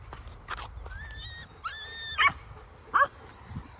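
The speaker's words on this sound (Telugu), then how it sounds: "ఆ మదర్ కుక్క అయితే ఎన్ని కుక్కల్ని పిలిచేసింది దాని గ్యాంగ్ అంతా." Dogs yelp and whine nearby, a mother dog and her pack, high whimpering cries mixed with a couple of sharp barks, with short gaps between the calls.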